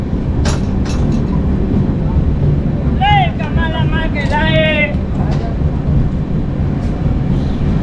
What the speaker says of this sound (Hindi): ट्रेन ऑन टाइम पहुंची है चुनार जंक्शन। और ये है ट्रेन की दूसरी हॉल्ट